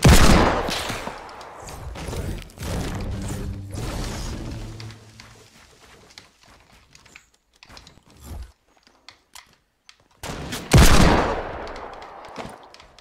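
Gunfire in the battle royale video game Fortnite, a loud burst of rapid shots at the start, scattered quieter mechanical clicks and clatter through the middle, then another sharp volley near the end.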